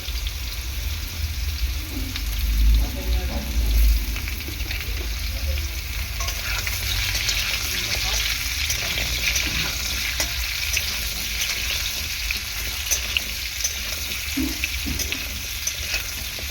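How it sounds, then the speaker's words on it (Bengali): Potato pieces and papaya fry in hot oil while being stirred, a loud, dense and steady sizzle with frequent scraping and clattering strokes from start to finish. "ভালো করে তেলের মধ্যে ভেজে নেব"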